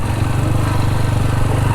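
A motorcycle engine runs steadily and close while a bike rides on a road heading into the Mangla Dam area near Mirpur. The pulsing low drone is loud, continuous and without speech.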